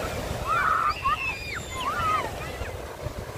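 Sea waves wash onto a debris-strewn shore at sunset in a steady, rushing roar with some wind buffeting, while high, thin calls ring out faintly above the surf.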